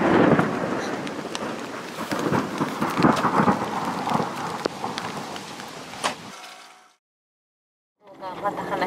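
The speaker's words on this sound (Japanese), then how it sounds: "雪と雷。" Thunder rolls and cracks during a snowstorm, heard from inside a car: heavy rumbling bursts build over several seconds with a sharp crack near six seconds, then fade abruptly into silence before noise returns.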